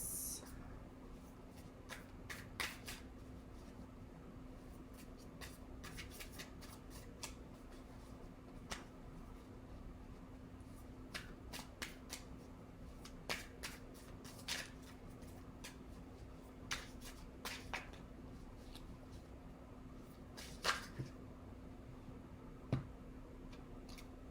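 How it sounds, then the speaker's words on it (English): A tarot card deck shuffled by hand with some resistance: soft, close card slides and riffles interrupted by irregular sharp flicks and taps over a quiet room hum, with occasional light speech. "Hitting a little bit of resistance there trying to shuffle this deck today."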